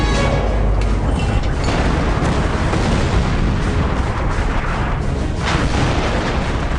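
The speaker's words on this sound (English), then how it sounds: "Even the mighty Jagdpanther is not immune to the artillery of the M7 Priest, firing off 105mm high-explosive shells." Battlefield in the Company of Heroes video game, with M7 Priest self-propelled artillery firing 105mm high-explosive shells: dense continuous booming and crackling blasts, loud and overlapping throughout with no pauses.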